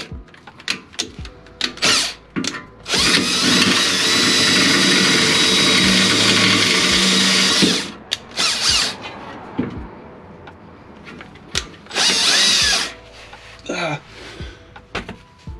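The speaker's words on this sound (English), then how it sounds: "drill these two holes right here" A power drill bores holes in the catalytic shield of a first-generation Toyota Tundra or Sequoia, with several loud bursts of motor whine and cutting, the longest about four seconds, separated by clicks, handling noise and short gaps.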